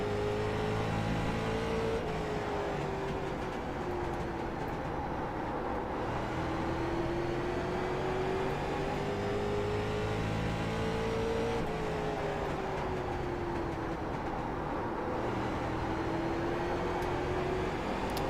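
Late model race cars racing at Myrtle Beach, a loud continuous in-car engine drone rising and falling in pitch as the car accelerates down the straights and lifts into the turns.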